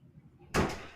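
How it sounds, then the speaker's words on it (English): A door slams shut with a single loud, sharp impact halfway through, and its crash rings out briefly afterward over a quiet room. "Stop slamming my door."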